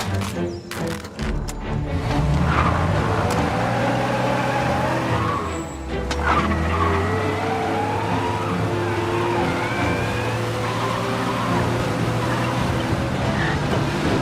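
Engine of a car in the Mafia Definitive Edition video game revving and pulling away during a police chase, a loud steady roar with skids and gunfire-like cracks early on and low music under it.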